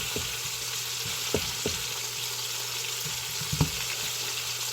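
Four burger patties sizzle steadily in a pan, with a constant frying hiss broken by a few sharp pops and crackles.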